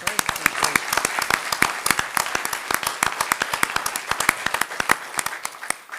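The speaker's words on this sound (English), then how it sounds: "we give them a nice round of applause" A crowd applauds at a township committee meeting in Union, with brisk, dense clapping running continuously for several seconds at moderate volume.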